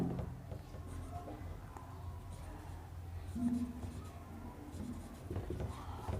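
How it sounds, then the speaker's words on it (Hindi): A teacher writes out an answer on a surface, with soft close scratching and tapping strokes coming in short uneven bursts amid faint room noise and a little background speech. "मैं यहाँ लिख देता हूँ"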